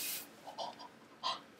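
Short hissing bursts of a deodorant spray can, one strong puff followed by a few softer spritzes, close and clear with no talking.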